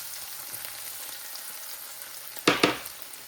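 Chopped garlic with turmeric and pickle masala fries in hot oil with a steady soft sizzle, broken near the end by two sharp scraping stirs.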